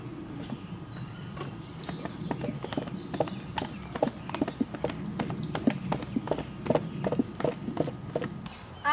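Steady clip-clop of hooves as horses walk along, a continuous rhythmic clatter of many hoofbeats at moderate distance.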